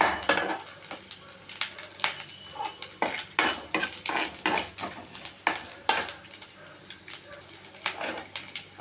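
Puffed rice (pori) being stirred as it roasts with jaggery in a pan, a spoon scraping and rattling against the metal in repeated strokes at close range, with a faint sizzle underneath.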